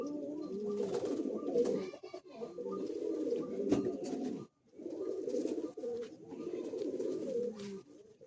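Old Madrasi pigeons coo continuously in a close, soft, throaty rolling chorus, broken by one brief pause before the murmuring resumes.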